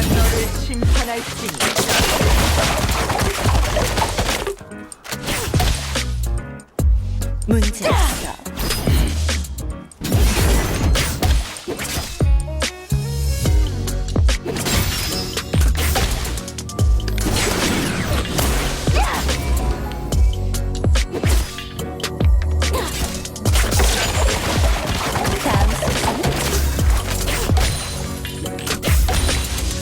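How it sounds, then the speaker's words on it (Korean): Pool Party Miss Fortune skin firing in League of Legends, rapid gunshots punctuated by impact whacks and crashes over game music, loud and near, continuing with brief gaps across the half minute. "이 총소리 은근히 마음에 드는데 떡떡 뭐 이런 소리가 나는데"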